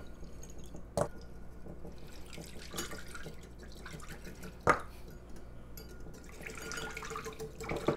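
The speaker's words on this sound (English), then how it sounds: "I'm going to pour about half in. I'm going to whisk it vigorously." Alcohol is poured into a lichen mixture in a bowl: soft liquid trickling and dripping with a couple of sharp clicks, and a fuller splashing pour near the end, fairly quiet and with no talking.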